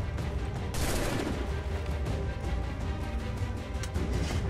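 Gunfire in the Assassin's Creed III video game, a dense burst of loud, sharp shots and booms layered over constant background game noise, with no talking.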